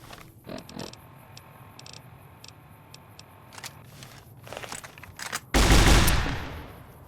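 Gunfire rings out in the Fallout: New Vegas video game. Sparse clicks and pops build to a loud, close blast near the end that decays over about a second.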